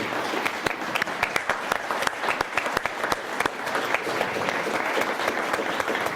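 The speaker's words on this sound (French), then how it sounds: "et merci de les applaudir." Audience applause fills a lecture or conference hall at an event about Celtic diasporas. It is a steady, dense clapping from a crowd that stays loud and even for about six seconds, with no talking over it.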